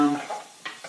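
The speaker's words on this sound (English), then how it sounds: "Stir it around." Mashed rutabaga seasoned with black pepper is stirred in a pot, giving two quick, soft scraping strokes close by after a brief tonal murmur at the start.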